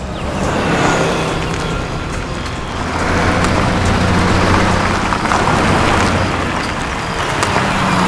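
A car pulls in and idles under steady, loud road rumble, with a continuous engine drone and broadband noise through the whole stretch, no voices.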